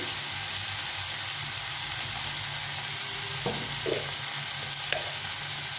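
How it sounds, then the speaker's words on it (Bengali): Tomatoes fry in a pan with a continuous close sizzle, broken by a few soft stirring scrapes and small taps, with no voices. "আর টমেটোটা ভালো করে ভেজে নেব"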